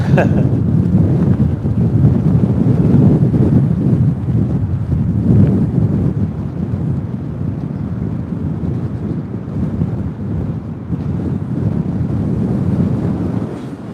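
Strong wind roars steadily across the microphone on the Blackpool seafront, a loud, continuous low rumble with gusty surges and no pauses over the whole stretch.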